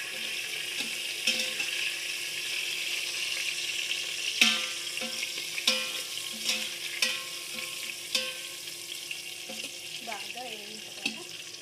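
Food sizzles steadily in a hot pan in a home kitchen, with repeated clinks and scrapes of a utensil stirring it and a brief trickle of running water near the end; no one speaks.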